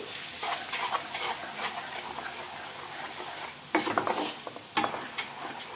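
Repeated scraping and clattering of a spoon stirring mutton pickle with chili powder in a metal pot over a soft sizzling hiss, with two louder bursts of stirring near the end.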